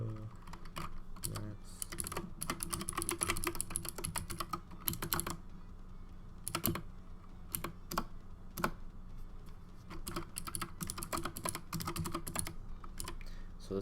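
Fast, steady typing on a mechanical computer keyboard, dense clacking keystrokes that run nearly continuously with brief pauses, close and alone.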